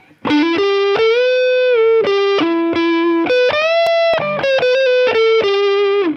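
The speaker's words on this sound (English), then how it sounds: "When you put it in distortion," A Gibson Custom 1966 EDS127 electric guitar plays through heavy distortion, loud, thick sustained lead notes with slides and a bend, all alone and up close.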